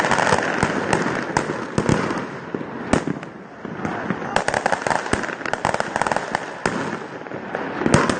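Fireworks burst repeatedly outside the Supreme Court during a street protest, a dense run of sharp cracks and bangs with a continuous crackling wash, loud and fairly close throughout.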